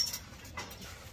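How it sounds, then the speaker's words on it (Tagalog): A young bully breed dog lets out a few faint, brief whimpers close by in a quiet room. "Meron akong bagong aso."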